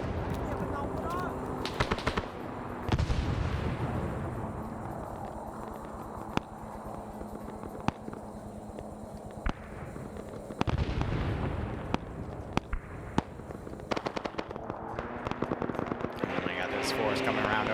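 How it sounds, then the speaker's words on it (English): Grenade explosions in a Vietnam-era combat game mission, with repeated booming blasts and sharp cracks of gunfire scattered through a continuous din of battle. "Some grenades going back and forth here."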